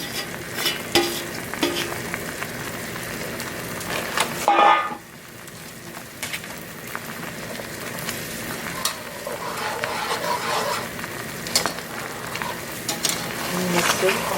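Shrimp and lobster sizzle and crackle steadily in a hot pan while a utensil scrapes and stirs through them, with a brief louder clatter partway.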